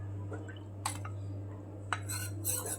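Custard powder stirred into milk in a pan, with quiet scraping and occasional clinks of a spoon against metal over a low steady hum, a few brief clatters standing out.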